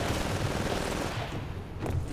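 Rapid gunfire from the Titanfall multiplayer shooter game fills the clip, a dense continuous rattle of shots at steady loudness with bursts overlapping throughout and no voice.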